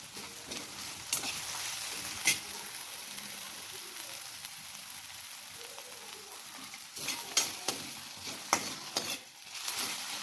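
Curry leaves and coriander sizzling in hot oil with onion, a quiet hiss punctuated by bursts of crackle and stirring scrapes, near but fairly soft.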